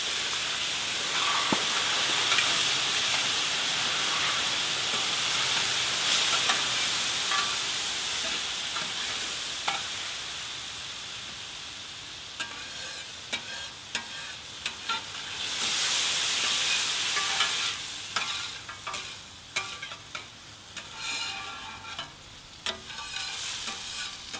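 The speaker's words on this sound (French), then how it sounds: "Il est important entre chaque cuisson de déglacer" Sweet potatoes sizzle hard on a hot plancha griddle during deglazing, a loud steady hiss of frying and steam with scraping and stirring clicks. The sizzle eases midway, then flares again in bursts.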